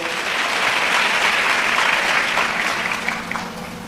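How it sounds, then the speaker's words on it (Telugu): Steady applause from a church congregation at a Telugu sermon, a dense wash of many hands clapping throughout, loud and sustained before thinning slightly at the end. "కొట్టగలవా చప్పట్లో"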